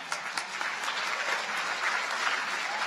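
Audience applause at a college new student orientation, a steady wash of many hands clapping that fills the whole stretch at moderate distance.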